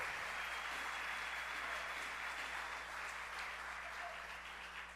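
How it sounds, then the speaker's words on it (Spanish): A church congregation applauds at a Sunday service, steady broadband clapping filling the room at an even level throughout, with a low hum underneath. "dale un aplauso al Señor"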